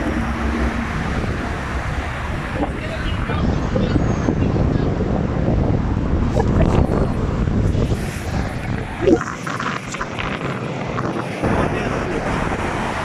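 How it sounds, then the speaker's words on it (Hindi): Strong gusting wind of a dust storm in Mecca roars across an outdoor microphone, buffeting it steadily with rumbling low noise throughout, and a few faint voices underneath. "यहाँ पर बहुत तेज़ हवा चल रही है"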